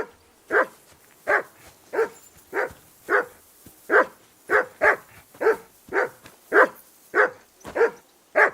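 A dog in Kingdom Come Deliverance 2 barks repeatedly in a steady rhythm, about sixteen sharp, evenly spaced barks, loud and fairly close, with no talking.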